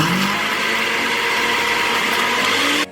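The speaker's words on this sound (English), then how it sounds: "Take 1 handful of raspberries and put them in your blender. Put the lid on top and time to mix." A kitchen blender whirring through a handful of raspberries, a loud steady motor drone that runs throughout and cuts off abruptly near the end.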